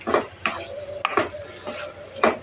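Snake gourd bharta with sugar and coriander leaves being stirred in a pan to dry it out, a spoon scraping in steady repeated strokes about every half second over a faint sizzle.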